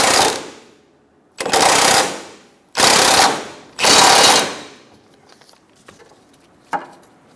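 Front subframe bolts on a 2003-2007 Honda Accord loosened with an impact wrench: four loud, close rattling bursts of a second or so each, then a faint clatter and one short final hit.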